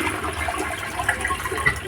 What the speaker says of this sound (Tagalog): Let's wait a little para may tubig ng ating tangke and then i-flush ulit natin